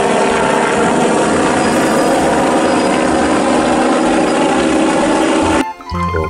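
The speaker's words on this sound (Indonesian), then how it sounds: "Yang ini helikopter teman-teman." A toy helicopter with a propeller runs in a steady, loud, dense buzzing whir close by, cutting off abruptly near the end.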